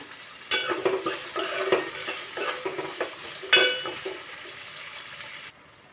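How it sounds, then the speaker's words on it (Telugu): Onions and green chillies frying in oil for mutton curry, a close, moderate sizzle stirred with repeated utensil scrapes and clinks, fading quieter at the end. "ఇప్పుడు దీంట్లో పచ్చిమిర్చి అయితే వేసేస్తాను. ఉల్లిగడ్డ అయితే వేసేసాను దీనిలో."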